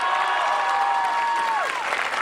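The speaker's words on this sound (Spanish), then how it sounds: "El aplauso para despedir, por favor." Studio audience applauding on a Mexican television talent show with child contestants, steady dense clapping throughout with a sustained musical tone sliding down over it.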